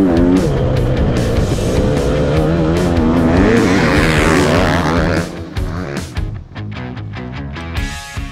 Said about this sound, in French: la moto roule bien